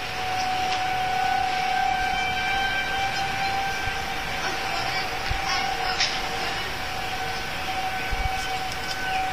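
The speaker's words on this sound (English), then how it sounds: "the warning sirens are going off" Tornado warning sirens sound during a storm chase, a steady sustained tone holding throughout under continuous outdoor wind and rumble, with a person talking over part of it.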